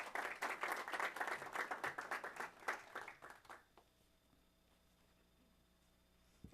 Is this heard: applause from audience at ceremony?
yes